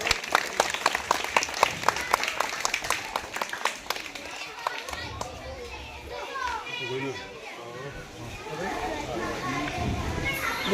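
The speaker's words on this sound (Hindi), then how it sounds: "एक बार हम सभी जोरदार तालियां बजाएंगे" A village farewell ceremony for a teacher opens with a crowd clapping loudly and rhythmically, then the applause thins into scattered claps, children's chatter and running footsteps.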